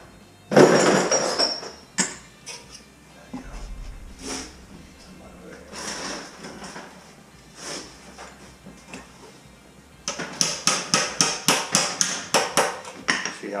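Sharp hammer strikes ring out on a thin copper baseboard heater stiffener, a few scattered blows early on, then a quick rhythmic run of close, loud taps toward the end.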